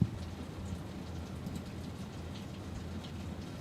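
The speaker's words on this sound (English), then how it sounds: "Loud thunder." Steady rain falls with a low, rolling rumble of thunder underneath, a continuous dense hiss throughout.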